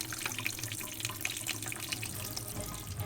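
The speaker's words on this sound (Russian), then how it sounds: "Сначала моем осьминога под проточной водой." Running tap water splashes steadily as a cleaned, store-bought octopus is rinsed under the faucet, a continuous close hiss with small irregular splashes and no voices.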